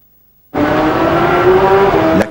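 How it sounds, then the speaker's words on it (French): The Guyot team's Kawasaki 94 endurance racing motorcycle laps the circuit at the 2000 Bol d'Or. After half a second of silence its engine bursts in as a loud, steady, high drone that holds at a constant pitch, then drops away near the end. "La Kawasaki 94 du team Guyot, la voici tournant comme une horloge, virevoltant avec bonheur au milieu des motos d'usine"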